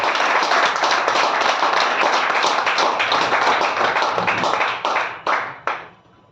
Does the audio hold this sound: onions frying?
no